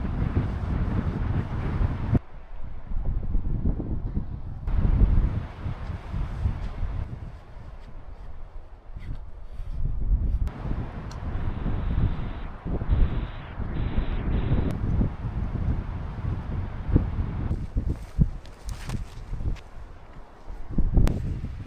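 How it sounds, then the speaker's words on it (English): Strong wind gusts on a winter hilltop campsite on the Edale Skyline in the Peak District, buffeting the microphone in loud, uneven surges with brief lulls and occasional rustling. No speech is heard. "The wind's picked up, hasn't it?"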